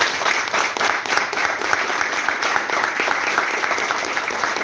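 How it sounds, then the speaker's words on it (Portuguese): A church congregation claps continuously and densely in a steady, even wash of applause for the whole stretch, with no pauses. "Vamos aplaudir o papai?"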